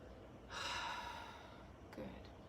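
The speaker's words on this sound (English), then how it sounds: "Some deep breaths." Slow deep breaths, a long audible inhale followed by a softer exhale, close and quiet with no talking.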